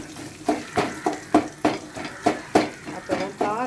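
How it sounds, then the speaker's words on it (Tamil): Dried chilies are pressed and crushed with a utensil in hot oil in a pan, giving a run of sharp scraping and clattering strokes roughly every third of a second, close and fairly loud. "மிளகாயை கொஞ்சம் அப்படியே நல்லா நசுக்கி விட்டுருங்க எண்ணெயில்."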